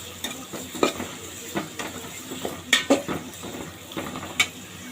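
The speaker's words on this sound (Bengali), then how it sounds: "পেঁয়াজটাকে হালকা একটু ভেজে নেব।" Chopped onions frying lightly in hot oil in a cooking pot, with soft sizzling under repeated scrapes and clinks of a spoon stirring against the metal, no voices.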